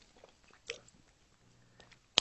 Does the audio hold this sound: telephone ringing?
no